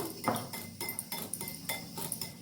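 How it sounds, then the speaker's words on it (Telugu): Cumin seeds pounded by hand in a kitchen for a yogurt chutney, giving a series of close, sharp knocks roughly every third of a second, alone without talk. "ఫస్ట్ మనం జీలకర్ర కొట్టేసుకోవాలి"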